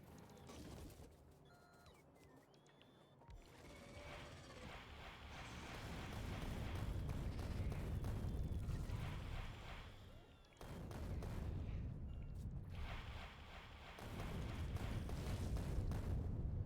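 Rockets blow up in the Factorio factory game as a rolling series of heavy, booming explosions and rumbling blasts, loud and dense, surging and dipping over several bursts with brief gaps between them.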